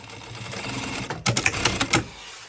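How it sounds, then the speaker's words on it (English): A sewing machine stitches a line on a shopper bag, starting after a moment of low background noise with a short, quick run of close mechanical clatter. "sew another line of stitching on the wrong side"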